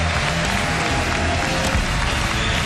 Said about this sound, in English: An electric crowd here in Omaha